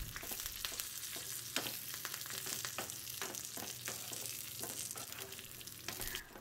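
Steady crackling sizzle of curry leaves frying in hot oil for a tadka, with scattered sharp pops throughout, close and continuous.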